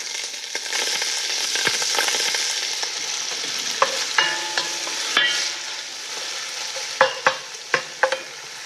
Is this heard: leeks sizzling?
yes